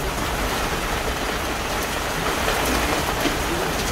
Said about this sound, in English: Lots of lightning, rain, and lots of wind and thunder.